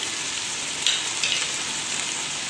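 Whole black peppercorns and cloves roasting in a pan for khara masala gosht, a steady soft sizzle with a couple of brief crackling bursts, no talk.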